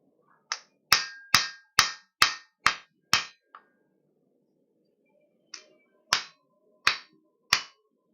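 Hammer blows ring out on a steel chef's knife blade as it is flattened diagonally across an anvil while making a French-style chef's knife: six sharp, evenly spaced strikes, a pause, then four more, loud and close with no talk.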